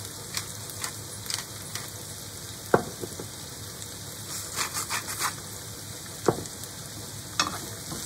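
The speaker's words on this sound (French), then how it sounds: "Je rajoute l'oignon et l'échalote. Je remue." Garlic, onion and shallot sizzle softly in a pan with a steady fry hiss, while a spoon stirs them in scattered scraping taps and a few sharper knocks against the pan.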